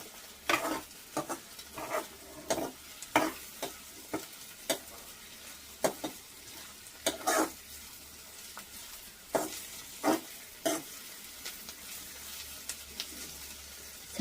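Ivy gourd and coconut fry in a pan on a hot stove, a soft continuous sizzle broken by repeated scraping stirs with a spatula at a steady, unhurried rhythm, close and clear, with no one speaking.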